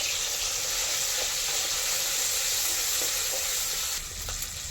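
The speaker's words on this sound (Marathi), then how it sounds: "आता हे वाटण आपण चांगलं फ्राय करून घेणार आहोत" An onion, coconut, sesame and coriander masala paste fries in oil on a wood-fired stove for a village-style crab curry, giving a dense, continuous sizzle close by with faint stirring taps.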